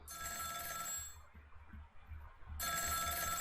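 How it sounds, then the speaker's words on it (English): A telephone rings in the video game Ghost Trick: Phantom Detective, a loud electronic ring bursting out twice with a brief quieter gap between, and no voices over it. "The telephone's ringing."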